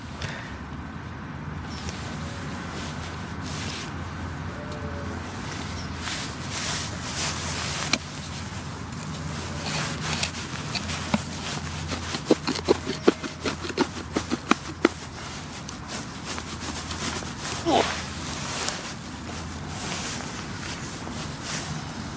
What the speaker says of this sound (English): Right, let's get digging.